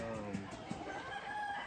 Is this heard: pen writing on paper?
no